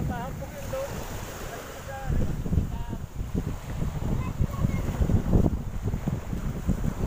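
Strong wind buffets the microphone at the seaside in Atimonan, Quezon, with surf and water washing beneath it; gusts swell louder after the first two seconds and faint voices come and go underneath.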